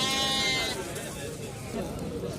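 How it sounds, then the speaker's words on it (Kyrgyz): Sheep bleating at a livestock market, one close drawn-out bleat at the start that fades under crowd chatter and nearby voices. "Бул жерде эки түштүү кочкорлорду мен азыр көрсөтө кетем."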